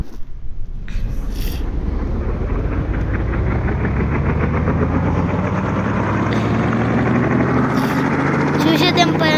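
A helicopter engine runs loud and close, a steady throbbing drone with rhythmic rotor pulsing that builds as it spins up, with a few brief sharp sounds near the start and end.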